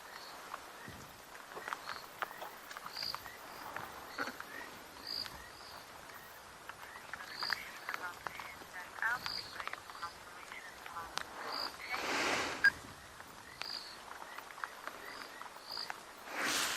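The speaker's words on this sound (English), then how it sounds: "Nothing other than frogs that I hear at the moment" Frogs call at night on safari, short repeated croaks and chirps pulsing steadily at a moderate distance over a constant insect hiss, with occasional soft rustles and no voices.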